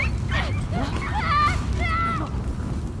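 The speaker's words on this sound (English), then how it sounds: "there's a dog right there." Dog vocalizing in The Last of Us Part 2, a few short whimpering yips and a bark-like cry heard amid game ambience and background chatter, moderately loud and close.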